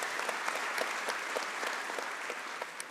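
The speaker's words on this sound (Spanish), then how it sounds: "Un fuerte voto de aplausos, por favor" An audience at a panel session of a public-service governance congress applauds steadily, with dense, continuous clapping for the full length and no voices over it.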